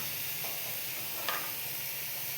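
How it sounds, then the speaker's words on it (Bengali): Onions fry in a pan with a faint, steady sizzle and hiss, quiet and even, with one brief stir or scrape partway through and no talking. "পেঁয়াজটা প্রায় ভাজা ভাজা হয়ে গেছে"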